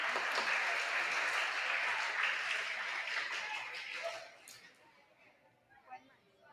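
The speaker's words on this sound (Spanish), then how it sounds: "Un aplauso, por favor, para los estudiantes" An audience applauds students at a school Teachers' Day program in Ecuador, with sustained clapping and chatter that fades out toward the end.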